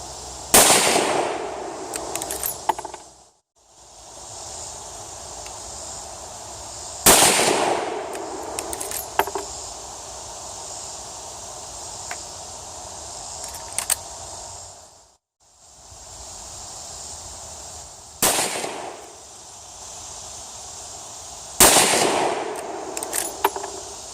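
Four widely spaced rifle shots from hand-loaded .30-30 deer rounds fired outdoors, each a sharp loud crack with a ringing tail and rustle, separated by long quiet gaps of shuffling and wind.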